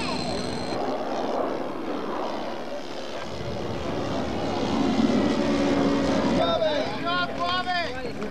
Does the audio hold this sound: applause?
no